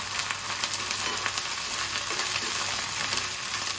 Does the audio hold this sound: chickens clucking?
no